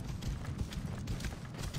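Horse hooves clip-clop steadily in Assassin's Creed Origins as the horse travels along a path, a continuous trotting rhythm mixed with game ambience.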